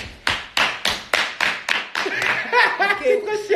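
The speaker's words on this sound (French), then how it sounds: "Applaudissez, s'il vous plaît" A small audience claps in sharp, evenly spaced beats, about seven distinct claps, before the clapping gives way to a voice talking and a few chuckles.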